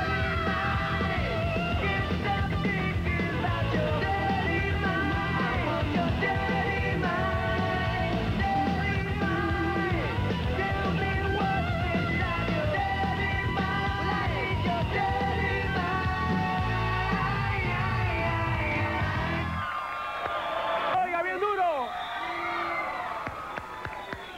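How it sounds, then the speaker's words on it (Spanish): A girl screams and yells over a busy, lively din of crowd noise and shouting, sustained and loud for most of the stretch before thinning out briefly near the end. "Aquí está la muchacha gritando, tipo menudo, mira. Oye, cómo grita esa muchacha."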